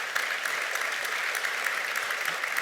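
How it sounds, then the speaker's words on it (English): An audience at a business panel discussion breaks into sustained applause, a dense, even patter of many hands clapping loudly without pause. "You can hear from the applause."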